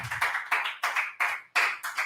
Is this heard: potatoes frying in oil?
no